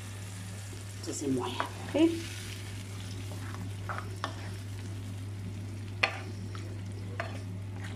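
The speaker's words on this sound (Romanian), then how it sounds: "Pentru ca să fiarbă puțin ceapa noastră și ardeiul" Onion and pepper cook in a pan for a fish plachie, giving a faint, steady sizzle under a low hum, with a few stirring clatters and a brief spoken remark.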